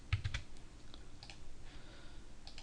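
A command is typed on a computer keyboard, a short run of soft, quick key clicks heard close up with no talking.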